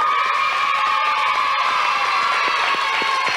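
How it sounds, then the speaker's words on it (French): A studio audience at a 1990 French TV children's show cheers and applauds a prize winner, a dense, loud wash of clapping, shouts and children's cries that stays constant from start to finish. "On peut l'applaudir encore une fois, hein."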